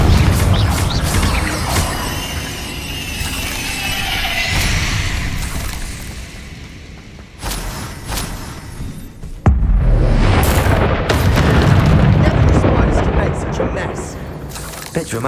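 A Confringo fire spell explodes in Hogwarts Legacy, bursting with loud booms and crackling, shattering debris in repeated blasts over a dense game soundscape, with voices in the mix.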